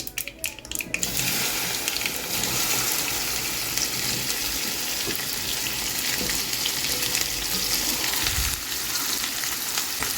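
Okra frying in a pan of groundnut oil with mustard seeds and asafoetida gives a close, steady, loud sizzle that holds evenly throughout, with no voices.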